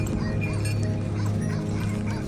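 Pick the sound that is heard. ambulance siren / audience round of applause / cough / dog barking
dog barking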